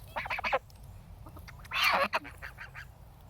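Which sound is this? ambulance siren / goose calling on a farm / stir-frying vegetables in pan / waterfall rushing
goose calling on a farm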